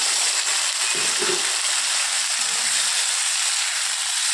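Cauliflower pieces frying in hot oil for a vegetarian potato and soy chunk curry, giving a steady close broadband sizzle and hiss with faint stirring clatter and no voices.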